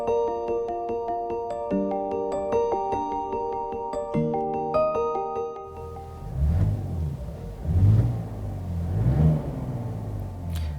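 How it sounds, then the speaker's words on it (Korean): A 2019 Mercedes-Benz CLS 400d 4Matic with an inline-six diesel revs three times in quick succession, each swell rising and falling, after several seconds of background music. "네, 정말 디젤 엔진으로는 상당히 빠른 리스폰스를 보여주고 있습니다."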